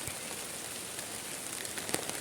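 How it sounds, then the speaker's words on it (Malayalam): Steady rain patters down on a home garden with mango trees and vegetable plants, a soft continuous hiss of drops with a few sharper close taps, no voices. "മഴ പെയ്തുകൊണ്ട് നിൽക്കുകയാണ്"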